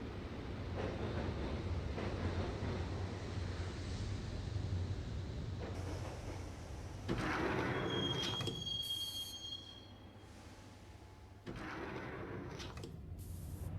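Train ride in the video game Max Payne with the doors shut: steady, loud rumbling rail noise throughout, joined midway by a high wheel squeal and rattling carriage sounds, then easing to a quieter hum before the rumble returns.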